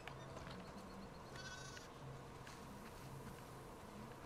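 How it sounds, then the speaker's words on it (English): Sheep bleating in The Last of Us Part II, a single short nasal bleat rising from a steady buzzing, insect-like outdoor ambience, heard alone at moderate distance without any talking. "Listen up, sheep."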